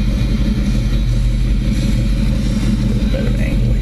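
Ford Mustang GT V8 idling steadily up close, a continuous deep rumble with a low, even throb and no revving.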